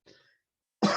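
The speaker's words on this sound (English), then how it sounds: "Sorry about the cough." A single sharp cough bursts out loudly at close range after a faint breathy sound and near silence, cutting off abruptly.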